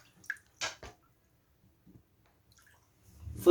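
Feet dipped into a basin of water mixed with apple cider vinegar give a few brief, soft splashes and drips with quiet pauses between, then a louder slosh of water at the end.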